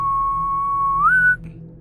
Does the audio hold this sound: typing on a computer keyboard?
no